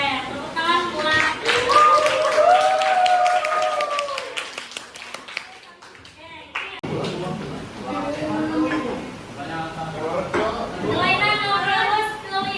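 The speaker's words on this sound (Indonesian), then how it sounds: "Oke, tepuk tangan buat." Scattered clapping from a small group of high school students in a biology class, brief and uneven, mixed with murmuring voices and speech before and after.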